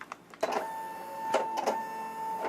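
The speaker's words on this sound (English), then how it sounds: "It's got to like do its little thing when you first turn on the machine" A Brother PE800 embroidery machine starts up after being switched on, giving a steady electronic whine and a few short mechanical whirs and clicks, close and with no talk.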